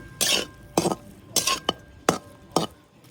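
Okra is stir-fried with crushed peanut powder, six distinct scraping strokes of a spatula against the pan spaced about half a second apart, close and fairly loud.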